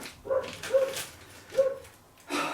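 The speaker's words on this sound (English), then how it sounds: "Yes, that's my dog barking for no apparent reason." A house dog barks several times nearby, three short sharp barks followed by a fainter fourth, with no talking over them.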